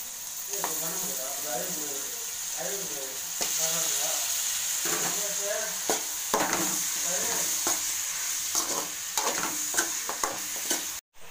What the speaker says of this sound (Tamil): கருவேப்பிலை கொத்தமல்லி போட்டுக்கலாம் இப்போ கறி சேர்த்துக்கிறோம்